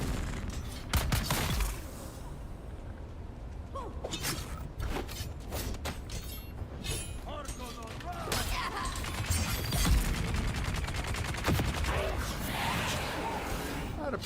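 Dense, repeated gunfire bursts and crashes from the Dune Awakening video game in a deep desert area, continuous across the clip with a voice talking over it.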